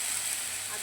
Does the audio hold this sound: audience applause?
no